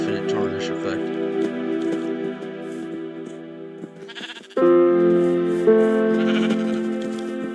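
Bleating from sheep in a video game, a loud, sustained, steady tone that is clear and close. It breaks off briefly and then resumes louder, with no voice over it.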